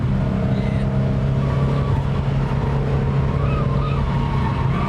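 A Subaru STI on a race track holds a loud, continuous high-rpm engine drone near 6,500 rpm, steady and close throughout with no talk over it.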